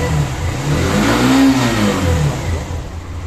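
A Hero Xtreme 125 motorcycle engine runs close by and is revved once, the pitch rising to a peak and falling back to a steady idle.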